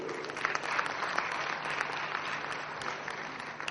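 An audience at a business conference in Mumbai's Indian Merchants' Chamber applauds, a steady wash of many hands clapping that holds evenly throughout.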